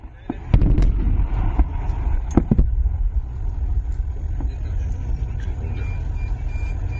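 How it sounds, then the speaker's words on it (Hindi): Artillery and cannon shells firing near the Pakistan border in Rajasthan, with loud booming blasts clustered early and sharp reports around two to three seconds over a constant low rumble. "इसमें आपको तोप दिख रही है, ड्रोन्स कैसे फोड़े जा रहे हैं, कैसे गोले दागे जा रहे हैं"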